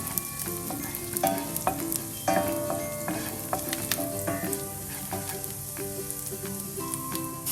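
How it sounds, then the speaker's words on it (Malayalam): Finely chopped shallots fry in hot ghee, crackling and sputtering loudly and continuously up close, with frequent popping bursts and a stirring scrape throughout. "ഈ ചൂടായ നെയ്യിലോട്ട് ഒരു 2 ചുവന്നുള്ളി ചെറുതായിട്ട് അരിഞ്ഞ് ഇട്ട് കൊടുക്കുക."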